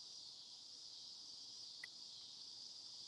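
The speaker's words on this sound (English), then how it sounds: "No, those are cicadas." Cicadas drone in a steady, continuous high-pitched buzz throughout, filling the background at moderate level with no speech.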